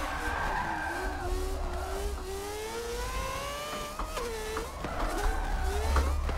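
Race car drifting at Laguna Seca in a racing video game played on a Logitech G920 wheel, tires squealing in long sliding wails over a steady engine drone.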